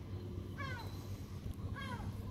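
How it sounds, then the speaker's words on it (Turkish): Stray island cats meowing at a ferry pier on Büyükada at night, two clear rising meows about a second apart, close by over a steady low rumble of water and boat noise. "Ada kedileri."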